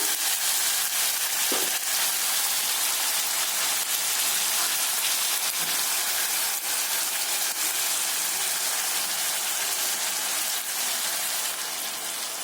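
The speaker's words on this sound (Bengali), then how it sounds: "আলুটাকে একটু ভাজি নেব।" Potatoes frying in a pan while cooking mustard greens, a steady dense sizzle and crackle of hot oil running throughout at close range, with a few faint clinks of stirring and no talk.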